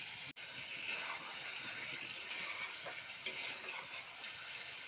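Spice paste for a banana flower curry fries in a pan with a low, continuous sizzle and occasional scraping, faint and steady with no talking.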